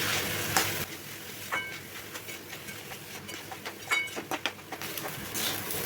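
Rice and lentils for khichuri frying in a pan, a dry sizzle broken by repeated scraping and stirring strokes that come in uneven bursts, close by and with no voices.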